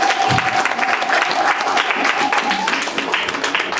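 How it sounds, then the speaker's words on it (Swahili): A congregation claps in unison, loud dense applause close by, with a faint sustained tone beneath it. "Ungempigia makofi Roho Mtakatifu"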